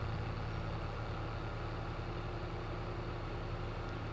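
Tractor engine idling in Farming Simulator 22, a steady low rumble with a constant hum and no change in pace, heard alone and close throughout.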